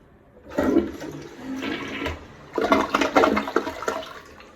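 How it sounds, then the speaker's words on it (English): A newly installed toilet flushes twice in a row, each a loud rushing gush of water that swirls and drains away, close by with no talking. "So I'm just going to flush it and make sure it's flushing properly."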